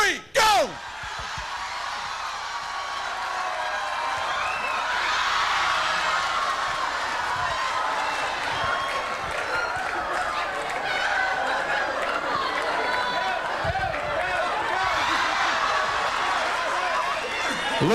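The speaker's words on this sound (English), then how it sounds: "you may start your cheering now" Crowd of boat supporters aboard a boat cheering in unison, a loud sustained roar of many voices with shouts and thumps that holds for the whole stretch after a sharp bang at the start, voices talking within it.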